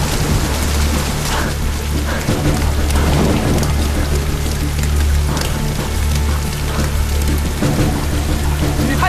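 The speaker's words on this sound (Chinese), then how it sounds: "雨太大了，看不清楚前面方向了。" A heavy rainstorm lashing an outdoor military training range, a loud, dense, continuous downpour with deep rumbling thunder underneath, filling the whole stretch without talk.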